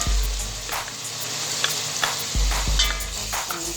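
Garlic and ginger paste fries with onion paste in a pan, giving a loud, close, continuous sizzle with scattered scraping stir sounds and soft clicks, no talking.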